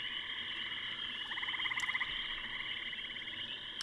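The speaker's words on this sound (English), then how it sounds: "What's with the frog?" A frog croaks steadily in The Silver Case game, a loud pulsing rattling trill sustained across the whole stretch with no talk over it.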